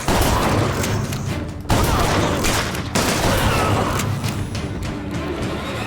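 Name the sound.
gunfire in the video game BioShock Infinite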